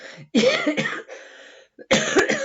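A person coughs several times in harsh, throaty bursts, with short pauses between fits, close and fairly loud.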